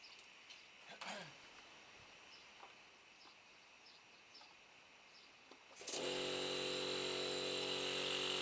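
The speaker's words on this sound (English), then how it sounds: "the compressor's on" An air compressor switches on partway through, during work fitting a motorcycle tyre to a wheel, and then runs as a loud, steady, close motor hum after a quieter stretch of faint background noise.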